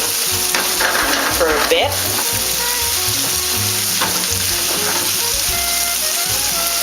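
Onion sautéing in an unwashed pan that just fried veggie burger patties, a loud close sizzle with stirring scrapes and clinks, and a short spoken remark near the start.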